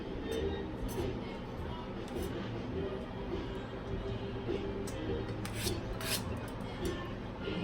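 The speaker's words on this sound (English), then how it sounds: "Scrape them right on off of the cutting board." Roasted Hatch chili seeds scraped off a cutting board, a steady close rasping and rubbing that runs throughout with a few light clicks.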